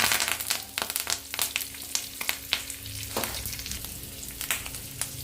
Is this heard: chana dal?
yes